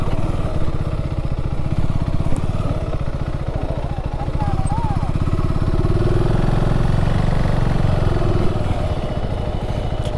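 Motorcycle engine chugging steadily and close by on rough ground near a barrage, a loud continuous putter with a rapid rhythm, with people talking over it.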